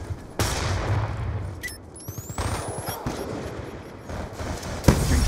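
Rapid gunfire bursts and sharp shots in a Black Ops II team deathmatch, loud and dense, with brief pauses and a whizzing sound between volleys.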